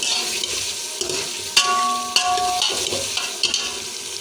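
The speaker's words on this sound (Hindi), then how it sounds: "तो हम अच्छे से इसमें फ्राई कर लेंगे घी में" Chicken pieces fry in ghee with a bright steady sizzle, broken by occasional scraping stirs and clinks of a utensil against the pan, close up and without speech.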